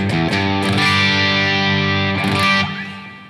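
An electric guitar runs through an overdrive pedal into a clean-set Deluxe Reverb amp, strumming loud, sustained distorted chords that ring out and fade at the end.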